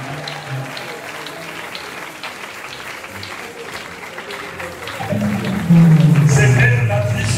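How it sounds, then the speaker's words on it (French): An audience at a church gathering applauds for the church's apostle, a steady wash of clapping under an amplified voice, swelling louder toward the end as music or singing rises. "sous vos applaudissements"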